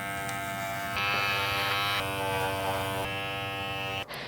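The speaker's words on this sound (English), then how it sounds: "I bought a dog grooming shaver instead of the actual one they tell you to get for rugs" A dog grooming shaver buzzes steadily at close range while trimming a tufted rug mirror, its pitch shifting slightly as it presses into the yarn, then cutting off abruptly at the end.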